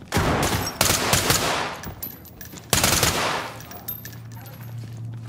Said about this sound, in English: I shot him in his head